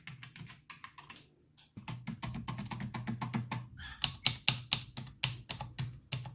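Rapid keystrokes on a computer keyboard, heard close and alone, with a brief pause near the start and then a steady run of clacky taps, some sharper and louder than others.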